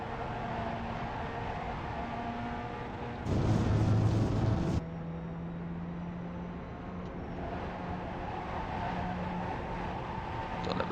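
Pontiac Solstice engine droning through a warm-up lap at Lime Rock in iRacing, a steady hum with a brief louder, rougher surge partway through, and no talking.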